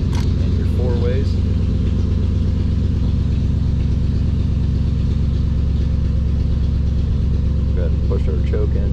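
A 1950 Ford Coupe's engine idles with a steady, close, even low rumble that holds for the whole stretch, with a faint voice briefly heard over it near the start and end.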